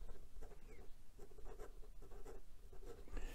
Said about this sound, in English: And as to some reverse writing, well, you know, it does do it, but it's very scratchy